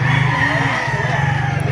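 A rooster crows at a busy outdoor poultry market in Baliuag, one drawn-out call carried over a steady low hum of crowd and traffic noise.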